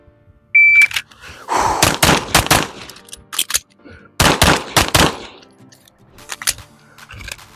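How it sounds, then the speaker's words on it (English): Pistol gunfire from an M&P Competitor Metal HD on a competition-style course: loud, close shots in rapid pairs and clusters, broken by a short pause before another quick string of rounds. "we're gonna do 2 rounds each, reload, re-engage"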